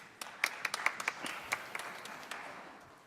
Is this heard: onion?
no